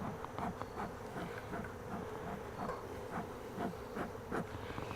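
Honeybees buzz around an open hive during a winter check, a close, dense droning hum with soft rising swells as individual bees pass near, steady throughout with no talk.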